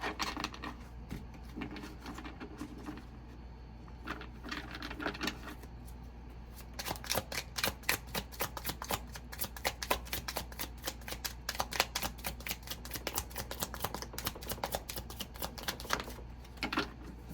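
Tarot cards being shuffled, first as soft sparse flicks, then in a long dense run of rapid riffling clicks, close and fairly quiet.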